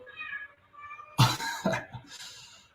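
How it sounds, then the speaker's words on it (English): An excited cat gives a quick series of short, rising meows, followed by a couple of louder, harsh bursts, all close by. "Our cat is excited. Listen to that."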